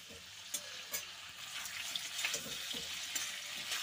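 Tomatoes and split green chillies frying in hot oil in a pan for a rohu fish curry, a steady bright sizzle with a few soft stirring clicks, no talking.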